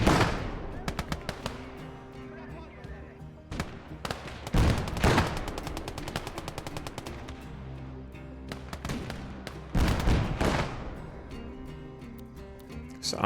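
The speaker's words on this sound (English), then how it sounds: "I want to start getting some mortars going too. These are the larger mortars." Large mortars and other guns fire in a war video game, bursts of rapid gunfire and several heavy booming blasts over steady battle noise, all fairly loud and close.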